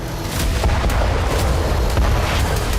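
Russian FAB-3000 glide bombs exploding in an attack on Kyiv, a dense run of loud, rumbling blasts and sharp bursts that overlap one another, with no voices.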